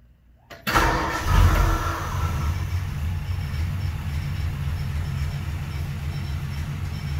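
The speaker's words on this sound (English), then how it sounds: "once you increase RPM to 2500 revs and keep it for 5 seconds" A car engine cranks and fires after a brief quiet moment, surges, then settles into a steady, even running hum that holds to the end, with no one speaking.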